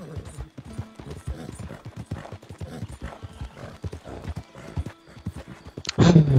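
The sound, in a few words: horse hooves in a video game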